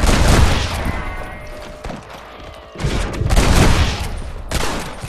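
Heavy gunfire in a Red Dead Redemption multiplayer bag-grab match, with dense bursts of rapid shots and booming reports in two loud clusters separated by a brief lull, no voices over it.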